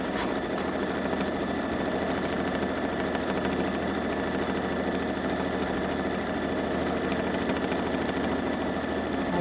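A Babylock Solaris Vision embroidery machine stitches a monogram, its needle mechanism running in a fast, steady, whirring rhythm, loud and close, without pause or talk.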